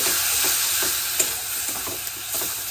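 A milk and flour mixture is stirred into a cauliflower and rohu fish curry in a pan, giving steady close sizzling with soft scraping strokes and a few small clinks, and no one speaks.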